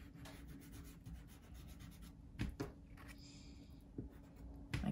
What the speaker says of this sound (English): And now I'm just going to erase these inner lines.